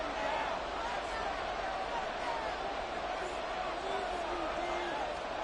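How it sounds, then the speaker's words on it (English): Crowd noise in a Madden football video game, a steady, loud roar of stadium cheering building ahead of a big third down, sustained without break throughout. "The crowd getting into it as we come up on a big 3rd down."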